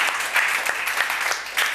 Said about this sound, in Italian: facciamo un applauso ad Ahmad Ben Ali